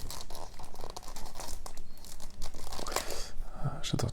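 A Marvel Champions hero card pack is torn open, producing crinkly tearing and crackling of the wrapper in short close bursts over a few seconds.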